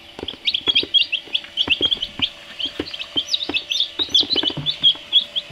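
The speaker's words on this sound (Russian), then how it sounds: "Вот они, теплые птенчики." Newly hatched chicken chicks peep in quick, high, overlapping chirps close by, with a few soft thumps and rustles beneath them.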